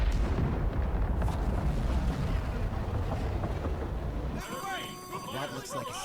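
An explosion in a Fire Force anime episode is a long, loud roaring blast and rumble lasting several seconds, then it cuts off abruptly and a voice speaks.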